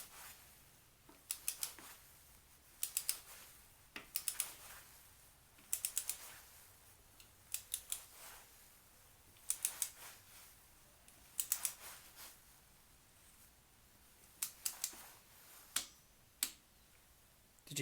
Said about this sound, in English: Get my torque wrench on there and start to tighten it down.